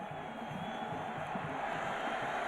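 A football stadium crowd at a college game between Oklahoma and Washington, a broad continuous roar of many voices swelling steadily, distant and dense, with faint talk mixed in.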